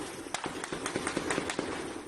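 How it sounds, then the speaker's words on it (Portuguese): Sharp cracking bangs in a rapid, irregular volley, several shots in quick succession with a steady background hum. "Tiros."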